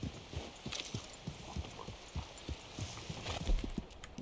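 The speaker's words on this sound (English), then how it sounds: "That's a beautiful horse." Dutch Warmblood horse in Red Dead Redemption 2 clip-clopping along at a steady walk, hoofbeats close and fairly soft in a regular rhythm, with faint background ambience and no talk.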